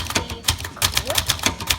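Typing on a 1968 Webster XL-500 manual typewriter: quick, close, crisp keystroke clacks in an uneven rapid rhythm, each strike a sharp snap, steady and loud with no talking.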